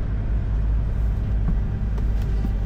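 BMW cars roll past in a low, steady road rumble, a continuous engine and tyre drone close by with a couple of faint ticks, no speech.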